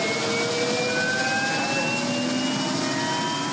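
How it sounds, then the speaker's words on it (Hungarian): A police helicopter arrives at Nyíregyháza airport for aerial ragweed surveying, its turbine giving a loud, steady whine with a slowly rising pitch and no voices over it. "Érkezik a rendőrségi helikopter a nyíregyházi repülőtérre."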